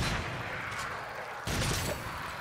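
Pistol shots ring out in the VR shooter Until Dawn: Rush of Blood, two or three sharp cracks over a noisy game background, the loudest near the end, with no talk.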